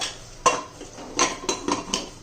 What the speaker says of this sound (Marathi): आता झाकण लावून घेऊया